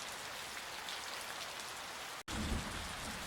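Steady rain pours down in a constant hiss, with a brief dropout before it resumes slightly heavier.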